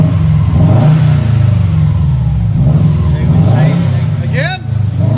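A 2008 Subaru WRX turbo with its resonator deleted is revved repeatedly in a shop. The engine surges loud and close and settles between pulls, with voices talking over it.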